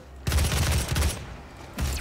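Rapid gunfire from the video game DOOM, a dense burst of loud close shots lasting about a second, a short lull, then another burst starting up.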